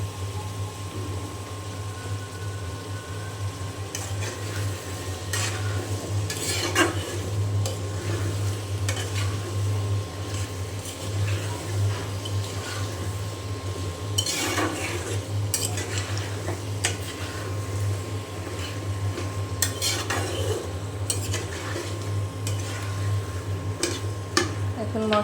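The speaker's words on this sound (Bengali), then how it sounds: "এখন মশলার সাথে খুব ভালো করে আমি কষিয়ে নেব।" Chopped taro being stirred with spices in a frying pan, a spoon scraping and clinking against the metal over a steady low sizzle, with occasional louder scrapes, no talking.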